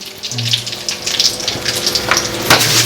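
Bay leaves and dried red chilies hiss and crackle in hot oil in a pan, a steady close sizzle with a brief louder spit near the end, no talking.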